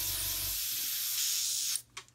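A liquid is sprayed through a nozzle onto a paper towel during a model build. A steady hiss lasts almost two seconds, cuts off, then a brief second spurt follows, close up and with no talk.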